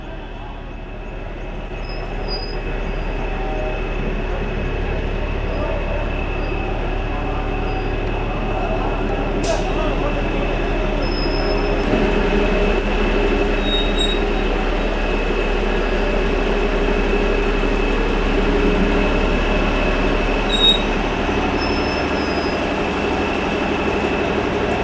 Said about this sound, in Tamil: இந்த சுரங்க வழித்தடத்தில் இன்று டீசல் என்ஜினை இயக்கி மெட்ரோ அதிகாரிகள் ஆய்வுகளை மேற்கொண்டனர்